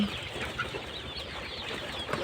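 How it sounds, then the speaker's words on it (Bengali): Broiler chickens crowd a poultry farm shed, a close, busy murmur of overlapping clucks and soft calls from many birds, with no talking. "আমরা এখন একটা মুরগির ফার্মে আছি"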